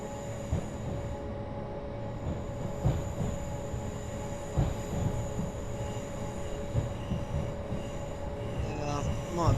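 Train coasting into a station in Train Simulator 2020 on a Brighton to London Victoria commuter route: a steady rolling rumble with faint wheel squeal and scattered clicks, continuous and close throughout, no talk over it.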